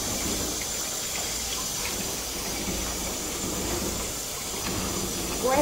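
Hot water runs steadily during an Italian greyhound's bath, producing a continuous hissing rush that stays even throughout and swells slightly at the very end.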